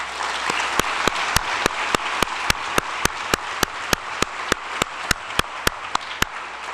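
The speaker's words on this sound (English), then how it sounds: "I would like to have a round of applause" A crowd applauds at the 2012 Golden Herald Awards ceremony, a continuous roar of clapping punctuated by sharp, evenly spaced clicks running throughout.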